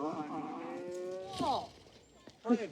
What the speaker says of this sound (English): Get those cows out of here.